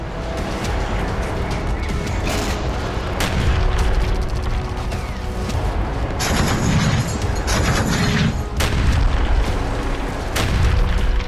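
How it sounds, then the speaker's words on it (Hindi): Shelling in Belgorod during the Russia-Ukraine conflict: repeated heavy booms and blasts come in a dense, continuous stretch, loud and rumbling, some sharp cracks among them, with no voices. "बीते 250 घंटों से बेलगोरोद में होते ये धमाके थम नहीं रहे।"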